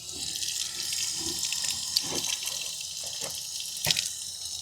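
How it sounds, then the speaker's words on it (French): A bathroom tap runs steadily into a sink during mouth rinsing, a continuous hiss of flowing water with a few brief splashes and clinks, close and alone without speech. "Je me rince la bouche."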